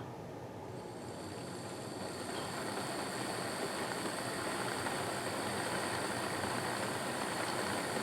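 Mantua 0-4-0 model locomotive running on track rollers, a steady close mechanical whir and rattle with a faint high whine, growing slightly louder after the first couple of seconds and holding constant.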